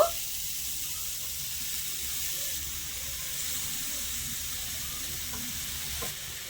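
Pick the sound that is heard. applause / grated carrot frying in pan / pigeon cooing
grated carrot frying in pan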